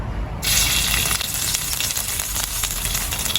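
Red curry paste frying in coconut oil in a pan gives a loud, steady sizzle that flares up sharply after a brief quiet start and keeps crackling and hissing without a break.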